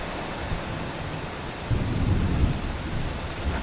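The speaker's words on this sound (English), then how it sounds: "It's raining." Rain falling in the Farming Simulator 25 video game, a steady hiss of downpour that swells into a heavier low rumble partway through, with no voices.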